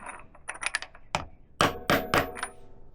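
Sharp metallic taps as a 26mm socket drives a crankshaft oil seal into a Benelli engine, a handful of light strikes then three louder, evenly spaced blows up close.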